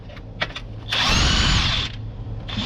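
A power tool loosening an oil pan bolt on a 2007 Honda Civic: a few short taps, then a loud sustained whir lasting about a second, close up, with no talk.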